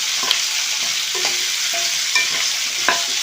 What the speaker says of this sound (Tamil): வெங்காயம் சேர்ந்து நல்லா வதக்குறது.